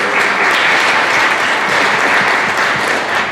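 A conference audience applauds steadily to welcome a panel onto the stage, a dense, even wash of clapping that holds at full strength throughout with no voices over it.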